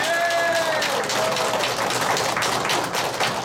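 An audience at a Myohee Arts Troupe volunteer concert claps to thank the singers, a dense, loud wash of applause mixed with a fading tonal voice or instrument at the start.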